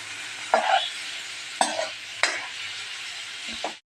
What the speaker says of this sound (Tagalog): At ilagay na po natin ang pusit.